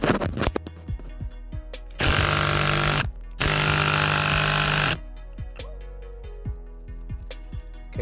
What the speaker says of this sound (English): I'm gonna tighten it with my electric impact